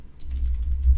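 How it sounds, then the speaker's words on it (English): Quick run of key presses on a computer keyboard, the clicks falling close together in a steady burst of typing, near and distinct with no talking. "you just need to go to your start or search window and type gpedit.msc"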